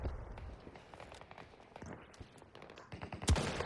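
Scattered gunfire and movement in the video game Battlefield 2042 stay fairly quiet and distant, with a few sharp shots and footstep-like thumps and one louder crack near the end.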